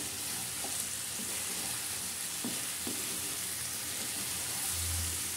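Vegetables and small shrimp fry in a pan, giving a soft, steady sizzle with occasional scrapes and clatters of stirring, close and fairly quiet, without talk.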